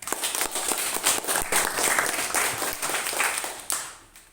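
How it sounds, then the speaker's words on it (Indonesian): Applause in a small group at a coaching practice session, a few minutes of close, uneven clapping from a modest number of people that fades out near the end. "terima kasih, tepuk tangan buat Eli"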